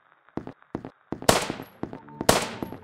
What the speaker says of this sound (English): Oh my god, are those gunshots?